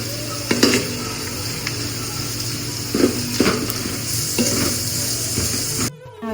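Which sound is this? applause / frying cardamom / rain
frying cardamom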